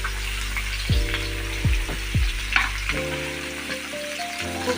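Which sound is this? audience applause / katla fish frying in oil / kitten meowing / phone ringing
katla fish frying in oil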